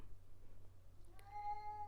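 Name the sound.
cat meowing for food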